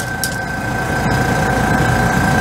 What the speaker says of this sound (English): Oh, compressor's coming on.